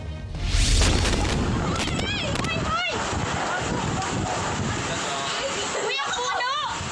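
Strong typhoon wind from Typhoon Tino's landfall in El Nido, Palawan, roars steadily with heavy rain, a loud broadband rush and gusts under people talking.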